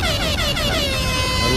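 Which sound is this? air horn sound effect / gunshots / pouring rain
air horn sound effect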